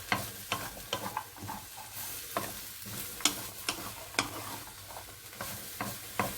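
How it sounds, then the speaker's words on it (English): Hard vegetables for a soup get stirred in a pot, with steady, close scraping and clattering strokes in an irregular rhythm over a soft sizzle. Nobody talks. "So just keep on stirring them, make sure that they're like cooked"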